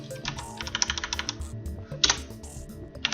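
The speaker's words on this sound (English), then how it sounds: "So I'm just going to type in" Quick bursts of computer keyboard typing while markup is entered into a code editor, clattery close keystrokes in rapid runs with brief pauses between words.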